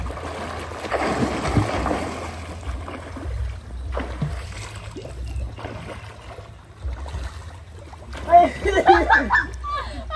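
Children splash in water during a swimming race outdoors, a continuous churning wash of water that swells into louder splashing near the end, with voices talking over it.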